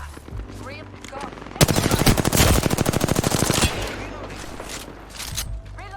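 Rapid automatic gunfire bursts loudly in a shooter video game, a dense two-second volley of shots with scattered single shots before and after, while a voice talks.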